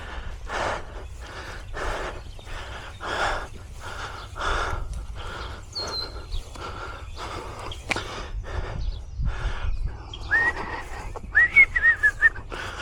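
A man whistles a tune while spraying liquid fertilizer and weed control on a spring lawn, short melodic phrases repeating with gaps, fairly close, over a low steady hiss.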